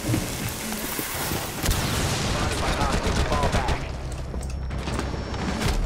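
Rapid pistol gunfire in a ranked shooter match, a dense burst of sharp shots in quick succession over a busy game soundscape, with people talking over it.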